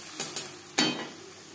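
Tomato paste scraped into fried grated coconut in a pan, giving a few sharp metallic taps and scrapes followed by a short burst of sizzling, close and moderately quiet.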